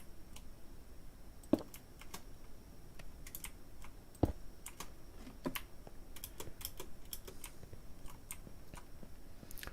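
Keys clatter steadily on a computer keyboard, quick irregular taps with a couple of sharper hits, close and fairly quiet, with no voices.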